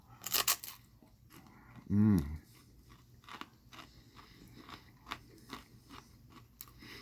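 Close crunching bites of a hard, crisp rice snack, a sharp crackle up front followed by quieter, irregular chewing crunches, with a short low vocal sound partway through.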